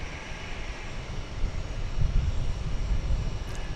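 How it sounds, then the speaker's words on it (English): A United Airbus A319 arriving from Denver at DFW Airport on its landing approach, a steady broadband jet roar that builds slightly louder midway and holds, with no one talking. "What do you say we greet a United Airbus A319 coming in from Denver?"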